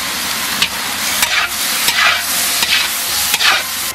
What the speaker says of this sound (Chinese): 弹炒入味，让每块牛排都裹上西红柿的汤汁